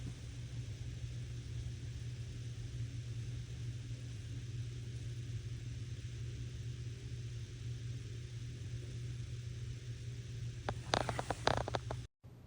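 A car drives through a wet snow storm, producing a steady low engine drone and road rumble from inside the cabin, then a short burst of clattering, scraping noise near the end.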